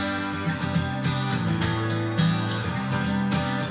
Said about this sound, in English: all the acoustic guitars together sound like this.